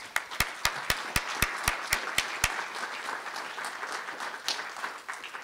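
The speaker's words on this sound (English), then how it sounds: "Let's give them a round of applause, please." At a library's American Indian writers award ceremony, an audience applauds; a run of sharp, evenly spaced loud claps from one nearby person stands out over a softer spread of crowd clapping that continues after the close claps stop.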